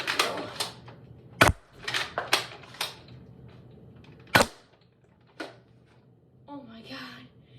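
Sharp, close snaps from a Nerf gun firing foam darts, several spaced cracks over a few seconds, with a voice talking in between.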